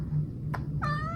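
A cat gives a short, close, clear meow near the end, preceded by a brief softer chirp, over a quiet indoor background hum.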